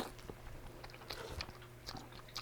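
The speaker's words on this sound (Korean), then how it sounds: "오징어 라면 한 번 더 먹어보겠습니다" Quiet, close chewing and slurping of Harim squid ramen noodles, with soft wet bites and mouth sounds over a low steady background hum.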